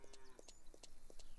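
Cows on a farm in the Farmer's Dynasty game, a string of short moos and farm animal calls repeating at a steady pace, moderately near, with no talk over them.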